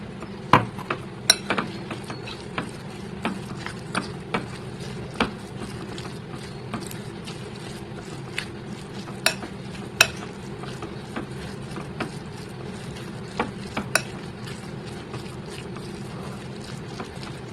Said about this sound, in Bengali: আমি হাত দিয়ে করবো না, সব কিছু চামচ দিয়ে করবো।